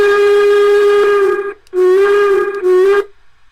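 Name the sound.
model steam locomotive whistle sound effect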